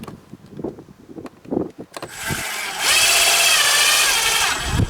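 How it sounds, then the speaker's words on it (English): A power drill drives the supplied screws to mount the bracket for a motion-sensing dusk-to-dawn farmhouse light fixture, starting with short bursts and then running in one loud, steady whir for a few seconds. "install our screws that they provided. I'll screw those down."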